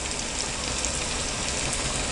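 Maddur vada frying in hot oil, a dense continuous sizzle and crackle of bubbling oil, steady and close with no talk.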